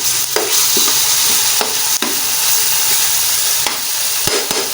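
Minced beef keema for a matar qeema roasting in a pan, a steady loud sizzle with frequent scraping stirs of a spoon against the pan, no talk.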